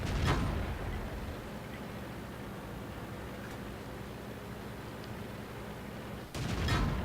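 A tank gun fires in the video game World of Tanks: two sharp, loud shots at the start and near the end, separated by a steady bed of engine and battlefield noise.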